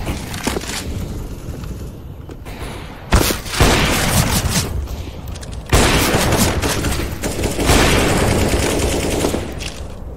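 Loud bursts of gunfire and explosive booms in a CS:GO match, with several dense volleys of rapid shots coming in waves and a grenade blast among them.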